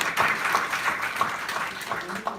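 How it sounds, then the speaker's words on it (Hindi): A meeting audience claps together, a brief burst of fairly loud, continuous applause with a voice speaking over it. "तालियां बजाते रहोगे तो गलती से भी कोई कोरोना का मरीज आ गया होगा तो बाहर चला जाएगा, इसलिए ताली जोर से बजाना"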